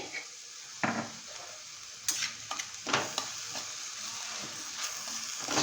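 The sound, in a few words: stirring radish and chana dal sabzi in a pan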